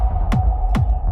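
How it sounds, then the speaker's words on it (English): Finisher BOOST plugin impact effect at its default setting gives two deep thudding hits over a steady low hum, each a sharp attack dropping in pitch, with a final faint hit at the end. "let's pick a new impact, and by default it sounds like this"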